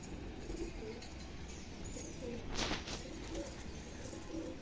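A female pigeon coos softly in low repeated calls, fairly faint against a steady background hiss, with no clear talking.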